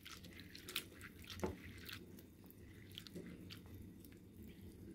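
Sago pearls rinsed in a bowl of water while making sabur payesh, soft wet squishing and dripping sounds with a few sharper splashes, close and fairly quiet, no voices.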